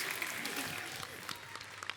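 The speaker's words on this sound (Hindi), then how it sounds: "कांग्रेचुलेशन, जोरदार तालियां हो जाए" A burst of clapping from a TV comedy show studio audience, dense and steady for a couple of seconds, fairly close.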